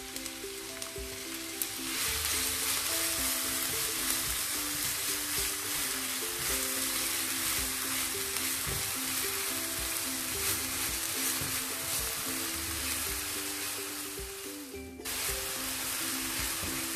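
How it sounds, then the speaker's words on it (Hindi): Finely chopped onion hits hot oil in a pan for sarson ka saag and sizzles loudly and continuously, with stirring scrapes and a brief dip before the frying surges again. "अब इसमें बारीक किया हुआ एक ओनियन डाल देते हैं।"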